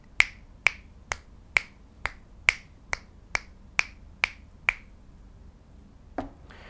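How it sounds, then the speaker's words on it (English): Ten crisp finger snaps at an even, quick rhythm, close and clear against a quiet background, followed by a brief handling bump, as a test of a Saramonic Blink 500 Pro wireless microphone. "So now I'll do a snap test"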